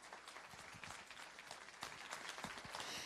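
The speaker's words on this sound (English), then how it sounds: "So let's give him a round of applause." Audience applause at a ceremony honoring a college alumna and state assemblymember, a steady wash of clapping from a sizable crowd that holds constant and swells slightly toward the end, with no talk over it.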